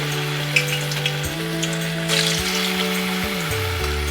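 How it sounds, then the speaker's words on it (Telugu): Potato pieces for Manchurian sizzle steadily in hot oil, a loud continuous frying hiss with light bubbling crackle throughout, close up and without voices. "ఆయిల్ హీట్ ఎక్కినాక దాంట్లోకి వేసుకోవాలండి ఒక్కొక్కటి"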